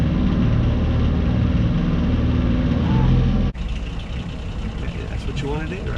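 A sailboat's engine throttles up in reverse while docking at Kemah, Texas, a loud, steady low rumble with wind noise that drops abruptly partway through and carries on more roughly, with voices calling out over it.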